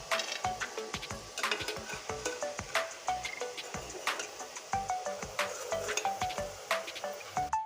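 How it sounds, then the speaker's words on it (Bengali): Gram flour boondi droplets frying in hot oil, a dense steady sizzle crackling throughout with frequent small clinks of a metal spoon or ladle against the pan, close and fairly loud. "এই দেখুন বুন্দিয়াগুলো আমি ভেজে নিচ্ছি"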